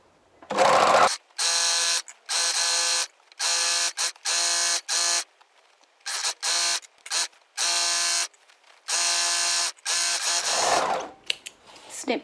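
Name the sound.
overlocker sewing side seams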